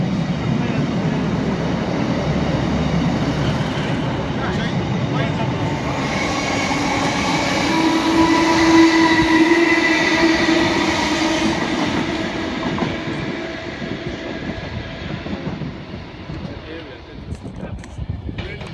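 Trains pass through Preston station on the West Coast Main Line, a long rumbling roar of wheels and carriages swelling and fading with a brief high squeal, while people talk over it.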